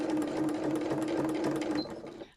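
A sewing machine running slowly for free motion embroidery, its needle clattering in a steady rapid rhythm with a constant motor whine, close and alone, slowing to a stop at the end.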